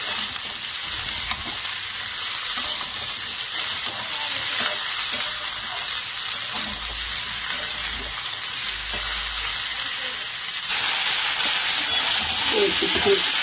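Mixed vegetables with dried fish fry in a pan, a constant close sizzle with occasional scraping stirs, growing louder and hissier toward the end, and no voices.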